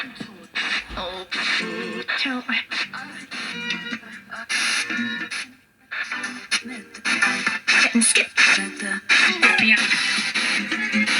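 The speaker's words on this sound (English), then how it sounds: "if we press the Ghost box and then we press go, it'll start to acquire some channels" Choppy radio noise from a Nanoportal Mk III Bluetooth ghost box jumps rapidly between channels, with bursts of static and fragments of voices cutting in and out, loud and near.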